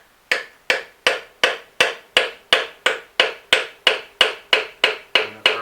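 Repeated hammer blows driving down onto a piston in a 1940 Ford engine, about fifteen sharp metallic strikes in an even, steady rhythm, close and loud with quick decays between hits.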